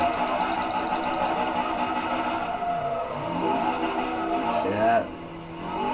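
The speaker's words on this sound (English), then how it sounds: "That's drifting right there. Doing good, holding it through." Tire squeal and engine roar from a car drifting through corners in the racing video game Forza 3, a continuous loud skid with engine whine under a man's speech.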